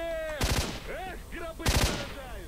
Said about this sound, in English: I can't even see what you're shooting at.